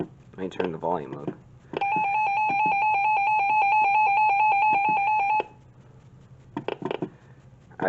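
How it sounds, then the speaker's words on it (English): An R1650D weather radio sounds its alarm, a loud, steady electronic tone held for about three and a half seconds, with a person talking briefly before and after it. "so that's the alarm"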